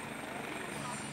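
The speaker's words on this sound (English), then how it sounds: "You can see now the Life Flight helicopter is getting ready to head back to Vanderbilt." A Life Flight medical helicopter readies for departure, its rotor and engine making a steady, continuous whirring drone with a person talking over it.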